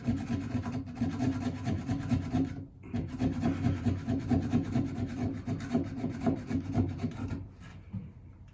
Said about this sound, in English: this is essentially how you would debark stuff back in the day